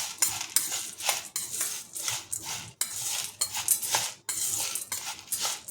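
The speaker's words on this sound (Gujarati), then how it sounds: "તો હવે આપણે એને મિક્સ કરી લઈશું" Masala spice is mixed into crunchy fried boondi, making rhythmic bursts of scraping and clinking stir strokes in a bowl. The strokes repeat quickly, are close by and stand alone.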